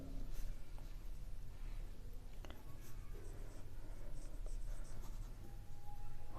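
A pen moves across paper during a class 9 maths lesson, giving a steady, continuous scratchy writing sound with small tapping strokes throughout, fairly close and alone.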